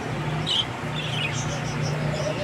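Pet parakeets (keets) in a large cage chirp in short, high, scattered bursts, fairly faint beneath a person talking nearby.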